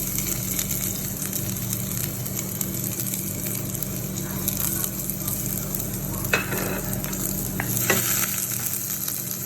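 Garlic frying in olive oil in a pan, a steady close sizzle with occasional scraping and stirring knocks over a low constant hum.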